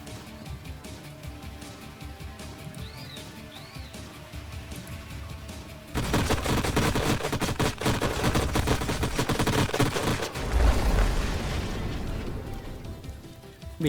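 Battle in Age of Wonders Planetfall builds from quieter background fire into a dense barrage of gunfire and blasts, with a deep, heavy explosion booming out near the end over the ongoing clatter.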